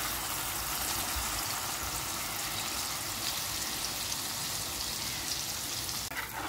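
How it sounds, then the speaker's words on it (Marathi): Ground spice masala fries in a cup of hot oil in a pan on a gas stove for tawa dahi chicken, with a dense, continuous sizzle and crackle held at an even level throughout. "आता याच्या तेलात सगळे मसाले सोडणार आहे जे आपण तयार केले"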